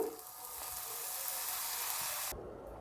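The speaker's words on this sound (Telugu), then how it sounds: "ఈ విధంగా ఒక పాపడ్స్ లాగా, క్రిస్పీ పాపడ్స్ లాగా ఫ్రై చేసుకొని పక్కన పెట్టేసుకోవాలి" Paala poori dough rounds deep-frying in hot oil until crisp like papads, giving a steady, moderately quiet sizzle that hisses evenly and then cuts off abruptly near the end.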